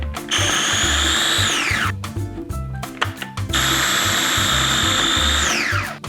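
Electric grinder whirs loudly as it blends chili paste and cumin into a rempah, the motor running steadily, dropping briefly, then returning to a sustained high-pitched whine.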